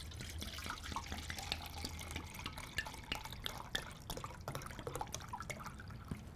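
Water poured into a container of soaked almonds for homemade almond milk, a steady trickling, splashing stream with small drips, moderately close and fairly quiet, with no talking.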